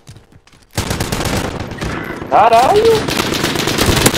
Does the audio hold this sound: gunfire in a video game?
yes